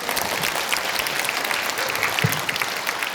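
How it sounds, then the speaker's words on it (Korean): Audience applauding after a Buddhist academic lecture at a memorial symposium held at Dongguk University, a steady wash of clapping from a seated crowd, moderately loud and even throughout. "문광 스님께 다시 한번 큰 박수 부탁드리겠습니다"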